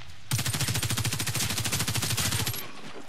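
Sustained automatic-weapon burst from the first-person shooter Warface, a rapid even train of close, loud shots lasting over two seconds with no talk.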